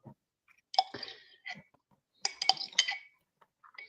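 Glass and a mug clink and knock in a quiet room, a few sharp ringing taps in two clusters with short gaps and light handling noise between them, close by.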